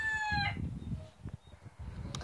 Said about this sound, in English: More and more chickens everywhere.